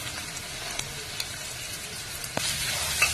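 Onion fries in a pan for an Indian-style zucchini curry, giving a steady close sizzle with a few light clicks and taps of a utensil, alone without speech.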